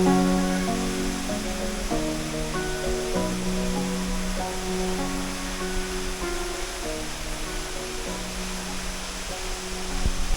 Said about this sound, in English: We're definitely going to spend some time here swimming and enjoying the waterfall.